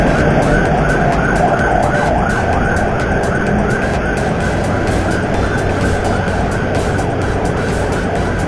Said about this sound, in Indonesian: belakang ada ambulan ya ini